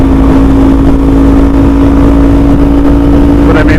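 A 2021 Kawasaki Z400 motorcycle engine held at about 7,200 rpm at highway speed, around 62 mph, a loud steady drone with heavy wind rush throughout.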